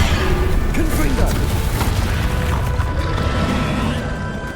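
A Confringo fire spell in Hogwarts Legacy combat, a loud sustained roaring burst with crackling blasts and rumbling impacts that fade slowly over a few seconds.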